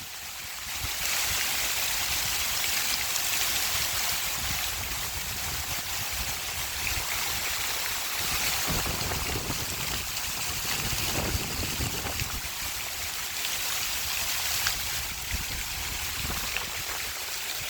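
Steady, dense rushing noise of heavy night rain pours without pause in Sri Ganganagar, Rajasthan, loud and even throughout, with no voices.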